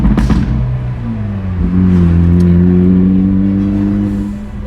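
A Hyundai Elantra N fitted with a new, larger-bore aftermarket exhaust revs up and holds a loud, droning note close by, with a burst of crackle at the start and no talking.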